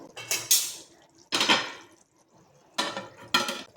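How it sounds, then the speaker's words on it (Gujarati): Lid set down over a pan of Kathiyawadi dhaba-style sev tameta curry, a few distinct metallic clatters with quiet gaps between them, close and fairly loud, no voices. "હવે આપણે એને એક મિનિટ માટે ઢાંકી લઈશું"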